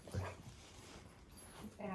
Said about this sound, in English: I'm getting attacked by your vicious dogs